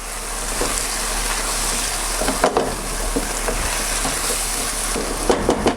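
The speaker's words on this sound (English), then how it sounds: "So right now I'll add another heaping spoonful to the bowl and mix it in thoroughly until it's perfectly smooth." A spoon stirs extra sour cream into a bowl with soft, continuous wet scraping and a few sharper clinks against the side, close and fairly quiet, with no talking.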